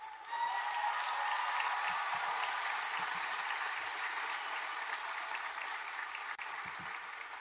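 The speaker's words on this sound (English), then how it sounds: "Clap for yourself for that" Graduating students applaud at the University of Texas at Austin campus-wide commencement, a vast crowd producing a broad, steady roar of clapping that swells in and sustains for several seconds, slightly distant and even.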